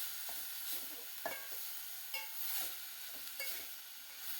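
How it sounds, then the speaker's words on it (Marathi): Mushrooms in masala sauté in a pan with a constant hissing sizzle, while a spoon stirs them in a series of soft, evenly spaced scrapes close by. "आता ही अळंबी पण आतल्या मसाल्यात चांगली परतून घेतलंय"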